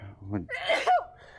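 A single sharp sneeze bursts out close by, preceded by a short vocal sound.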